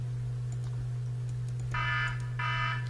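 A mobile phone alarm sounds during a Star Wars Battlefront II gaming session, two short bursts of bright beeping over a steady low hum.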